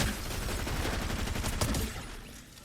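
Rapid SMG gunfire in a video game, a dense, continuous burst of shots running the full length, loud and steady with a slight swell near the middle before easing off at the end.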